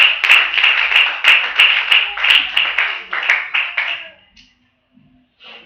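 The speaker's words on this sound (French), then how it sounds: "Let's clap for Jesus." A church congregation claps for Jesus during a sermon, with loud rhythmic group clapping in a steady beat for about four seconds, then fading out into near silence, with a brief voice at the end.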